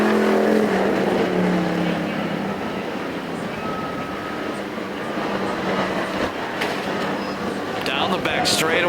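Enduro race cars circling the dirt oval at Perris Auto Speedway, a dense continuous roar of engines heard from a distance, with an announcer talking over it.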